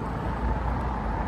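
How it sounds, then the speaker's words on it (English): Road traffic rumbles past in Scotland as a steady, loud low roar of passing vehicles, close by and continuous with no voices. "It might be too noisy here with the traffic."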